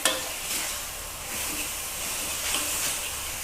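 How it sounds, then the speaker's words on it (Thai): Minced pork stir-frying in a pan with a splash of water, a dense steady hiss and sizzle with brief spatula scrapes, close and uninterrupted. "คั่วให้ผัดให้หมูสับมีความสุก"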